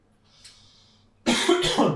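A single harsh cough bursts out close to the microphone after near silence, with a short second rasp right behind it.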